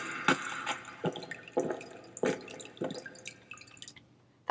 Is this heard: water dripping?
yes